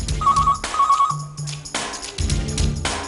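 An incoming-call telephone ringtone on a TV game show sounds in two short electronic trills over a low studio hum, followed by a lower two-tone beep and a burst of background noise.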